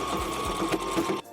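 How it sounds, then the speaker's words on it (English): A sewing machine runs a quick, steady burst of stitching through flannel close to a serged seam edge, with a rapid mechanical whir that cuts off abruptly near the end. "going to sew fairly close to the serged edge"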